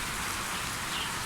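Steady rain falls in a monsoon downpour, an even, close hiss of drops on surfaces with no voices.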